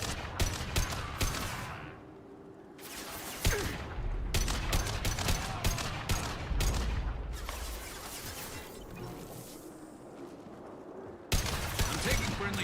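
Bursts of gunfire and blasts during combat in the video game Mass Effect 2, loud volleys separated by brief lulls, with some speech in the mix.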